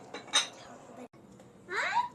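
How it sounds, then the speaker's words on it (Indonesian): A spoon stirs a cabbage, rice and meat filling mixture with tomato and onion in a metal bowl, giving close scraping clinks in two bursts with a brief pause between. "Aduk semuanya sampai rata ya bunda ya"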